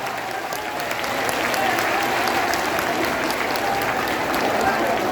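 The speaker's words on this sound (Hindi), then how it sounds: "दोनों हाथ उठा करके जोरदार ताली बजा करके माननीय बहन जी का स्वागत करने का काम करें।" A big crowd at a Lok Sabha election rally in Basti applauds loudly for Mayawati, a thick and continuous roar of clapping that grows slightly stronger and holds steady throughout.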